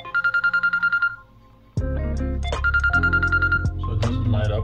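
A phone rings from an incoming call during a DIY Faraday bag test, a repeating electronic ringtone pattern, then louder musical tones take over, all close and without talk.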